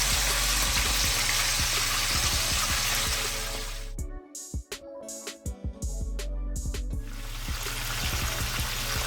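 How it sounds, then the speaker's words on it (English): Chicken wings for mango habanero hot wings fry in oil with a steady sizzling hiss and bubbling. A short break in the middle holds a few sharp clatters before the sizzle returns. "We're also going to fry these wings for at least 10 to 12 minutes or until they're nice and crispy"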